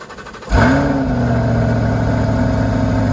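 A C8 Corvette sports car engine cranks and catches suddenly, then settles into a loud, steady, deep idle that stays close and constant.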